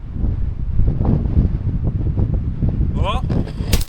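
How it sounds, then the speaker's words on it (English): Gusty wind buffets a microphone outdoors in snowy ground at a rifle sighting-in spot, a loud continuous rumble with a brief whistling sweep near the end. "As you can see, it's windy."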